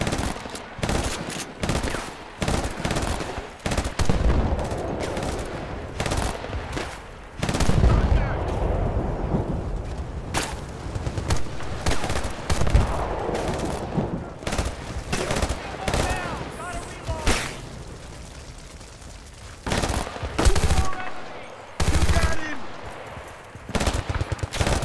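Explosive shotgun blasts in Battlefield: Bad Company 2, on the Upriver map: many loud, close booming shots in irregular bursts with short gaps between, over rumbling battle noise and occasional talk.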